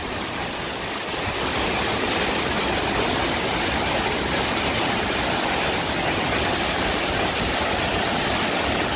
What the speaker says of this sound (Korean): 정말 아름다운 폭포수의 모습입니다.